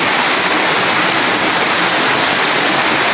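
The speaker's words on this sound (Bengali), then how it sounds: "এখন তুমুল জোরে বৃষ্টি হচ্ছে।" Heavy rain pours down around a house, a dense, loud and unbroken hiss of water on surfaces that fills the whole stretch evenly, with no voices.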